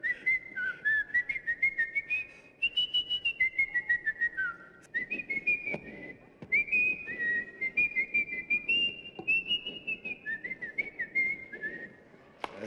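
Someone imitates Mickey Mouse's whistle, a bouncy, wavering cartoon-style tune, pausing briefly before starting again, with soft background murmur and shuffling underneath.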